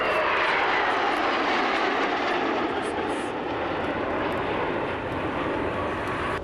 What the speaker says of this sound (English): The pilots have established landing configuration, landing lights are on, and gear is down.